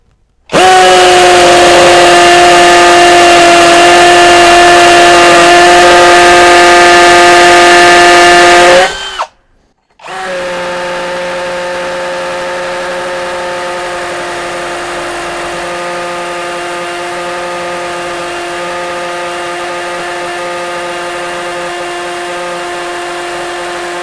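A Mensela ED-LX2 brushless impact drill runs at speed setting 10 with a loud, steady high-pitched motor whine, cuts out for about a second, then resumes at a slightly lower, even drone.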